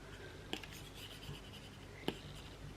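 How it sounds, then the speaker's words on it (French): A stylus scratches softly across an iPad glass screen with two brief, sharper taps, heard quietly and close against a faint background hiss. "si vous dessinez sur un écran d'iPad"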